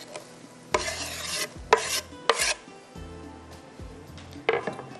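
Coarsely chopped onions, 250 grams, frying in Shahtaj cooking oil make a low sizzle broken by several sharp clanks and scrapes of a utensil against the pan, spaced irregularly and close, with no voice.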